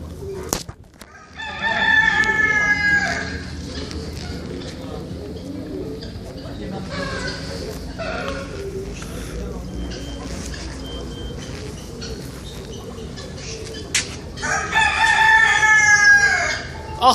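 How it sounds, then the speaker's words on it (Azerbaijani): Chickens and roosters at an aviary for rare birds in Iran, with loud repeated rooster crows near the start and end and clucking in between, over a steady background murmur. "Toyuqlar da bunlar."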